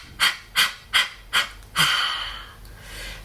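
Sharp, forceful breaths are pushed out in a breathing exercise, four quick evenly spaced puffs followed by a longer sustained exhale, loud and close with no talking.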